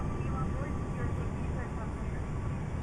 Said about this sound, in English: LVFR A319 with the Horizon mod. I love the way it sounds.